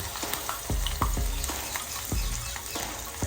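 Cumin seeds sizzling in hot oil during a dhokla tempering, a close, steady frying hiss punctuated by a few scattered crackles and soft pops, heard alone without voices.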